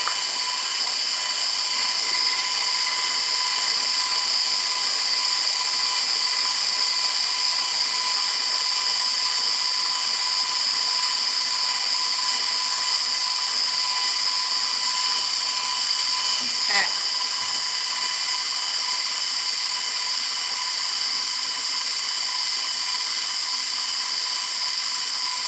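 An electric hand mixer whirs steadily as an egg is beaten into banana bread muffin batter for streusel muffins, a continuous high motor whine holding level throughout with one brief knock partway through.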